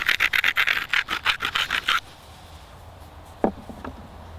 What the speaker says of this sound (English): We'll go grind this and then drive a few flakes in.